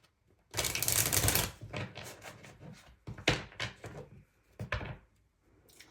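Tarot cards being shuffled by hand, with a long, dense riffle of crisp papery flutters followed by several shorter bursts and soft taps, close and clear with no talk.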